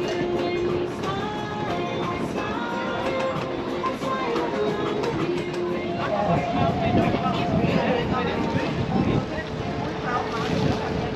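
Catamaran cruising back into the harbour in Barbados on the Caribbean, with a steady broadband rush of engine, water and wind noise throughout, close to the microphone, under ongoing talk and background voices.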